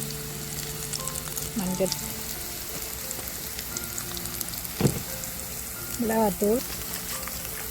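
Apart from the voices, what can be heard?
ingredients sautéing in oil until golden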